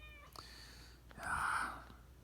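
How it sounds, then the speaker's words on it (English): A cat meows for attention, close by: one short call, then a longer, louder drawn-out meow over a quiet room. "But I think the cat wants some attention."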